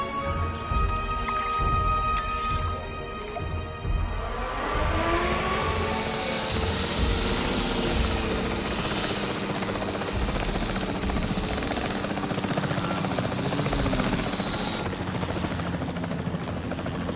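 Capture team helicopter in Jurassic World Evolution 3, its rotor building from about four seconds into a loud, steady whine and thrum that holds close and continuous to the end, with no voices.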